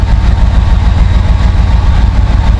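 An old Chevy C10 pickup truck engine idling up close, a loud steady low rumble with an even pulsing throb throughout and no voices.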